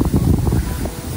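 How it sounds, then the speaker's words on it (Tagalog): Strong wind gusting across an open rice field, a loud, close, rumbling buffet of wind noise against the microphone throughout, with no voices. "Lakas ng hangin."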